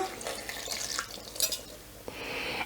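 A liquid mixture is poured over rice and grated carrot in a pot, giving a brief splashing, trickling pour with light clinks of utensils close by.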